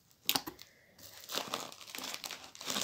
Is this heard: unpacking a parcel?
yes